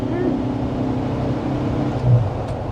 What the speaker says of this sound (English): typical air-cooled engine, there's a lot of fan noise